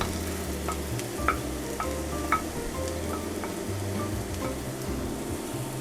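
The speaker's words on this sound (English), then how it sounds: "Start the cooking of our walnuts." Walnuts frying with onions in a pan for vegan lettuce cups, a steady sizzle with a few light stirring clicks throughout, close and moderately loud, with no talking.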